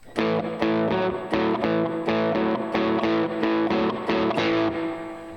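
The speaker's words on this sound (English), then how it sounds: "I'm talking about a boogie pattern." A rolling boogie-woogie piano pattern, bass figure driving under repeated chord stabs in a steady, bouncy rhythm, played alone and clearly.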